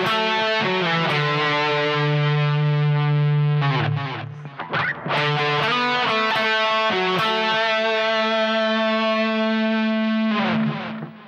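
A distorted electric guitar plays the chorus melody of the final solo of a song, a sustained line with bends and slides, loud and alone, with a brief choppy break midway.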